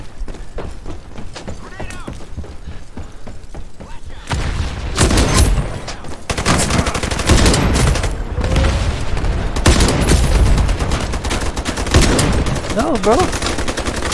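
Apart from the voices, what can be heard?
gunfire in video game Ironsight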